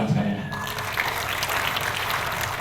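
A church congregation claps together in a broad, continuous wash of applause that rises after a brief spoken moment and carries on evenly to the end.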